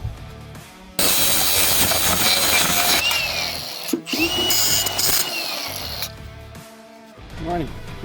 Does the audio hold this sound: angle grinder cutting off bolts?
yes